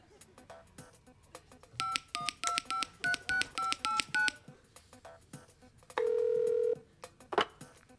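A touch-tone telephone number is dialed as a quick run of about a dozen clear beeps, followed by a single longer steady tone and a brief final blip, close and alone.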